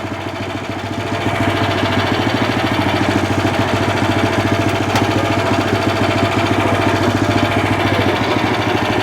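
A Motor Sich MB-16E walk-behind tractor engine steps up from a lower idle to a steady, loud, close chugging run, with its rapid firing pulses holding constant once the revs rise.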